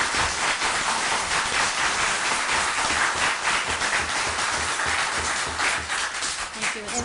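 Dense, sustained clapping from a crowd at a town board of selectmen meeting, a continuous hiss-like wash of applause holding steady for several seconds.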